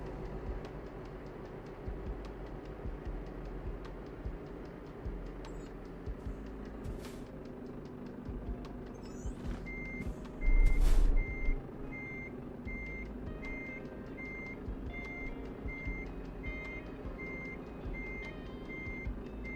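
Truck reversing alarm in American Truck Simulator, a steady series of evenly spaced beeps over a low engine hum, with a brief louder thump midway; no talking.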